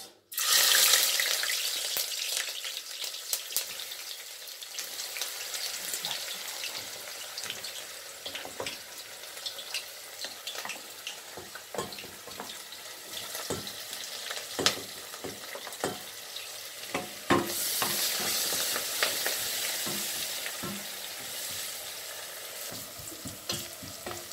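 Onions fry in oil in a pan for an Italian tuna spaghetti with tomato sauce. A loud initial sizzle settles into a steady crackling hiss, broken by occasional stirring scrapes, and the sizzle swells again later on.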